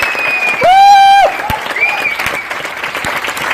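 An audience claps in a dense, steady burst of applause at an Amway team meeting, with a loud whistle cutting through and crowd cheering mixed in.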